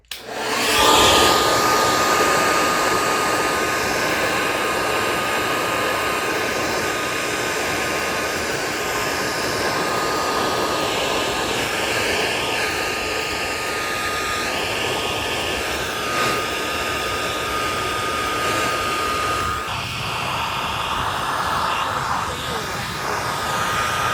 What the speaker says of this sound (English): we're gonna try the blow dryer on top of everything else.